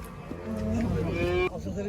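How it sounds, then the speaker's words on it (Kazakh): A cow with her calf lets out a loud, drawn-out moo at a busy livestock market, close to the microphone and alone without talk over it. "Бұзаулы сиыр."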